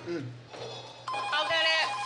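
A telephone bell rings in short bursts in a home, loud and near, with people talking over it.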